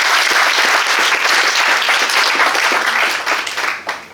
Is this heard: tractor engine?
no